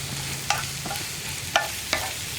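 Chopped ivy gourd stir-frying in a pan for a Kerala mezhukkupuratti, a steady oily sizzle broken by three sharp spatula scrapes and clinks against the pan, close and distinct.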